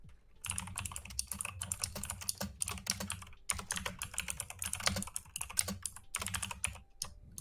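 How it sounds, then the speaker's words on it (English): Clattering keystrokes on a loud computer keyboard, close and continuous, with rapid irregular bursts and a few brief pauses, no voices. "It's just a loud keyboard"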